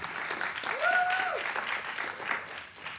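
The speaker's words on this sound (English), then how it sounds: "You can clap her up" Audience applause at a corporate climate panel, a moderate wash of clapping running throughout, with a brief voice rising over it partway through.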